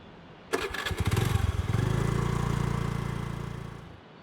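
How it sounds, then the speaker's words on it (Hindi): A scooter engine starts with a sputtering burst, then revs steadily and buzzes loudly for a few seconds before fading as it rides off down the road, with no talking. "रेशमा घर से निकली, स्कूटर पर बैठी और सड़क पर आगे बढ़ गई।"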